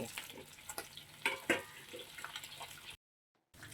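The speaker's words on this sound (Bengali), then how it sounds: "এখন বাকি মাছগুলোকেও একে একে ভেজে নেব।" Chital fish pieces fry in oil in a kadai, a faint crackling sizzle with small sharp pops and spatters, close and quiet, cut off briefly by a moment of silence near the end.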